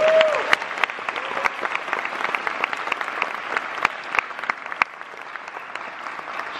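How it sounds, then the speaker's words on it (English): Audience applause at the American Black Film Festival awards, a dense crowd clapping with sharp individual claps standing out, loud and sustained throughout with a brief tone at the start. "Please give her a round of applause."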